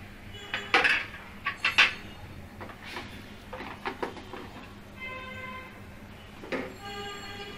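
Lentils and then vegetables are tipped into a cooking pot for khichuri, giving several close clinks and clatters of metal on metal, spaced out between quieter stretches with no talk.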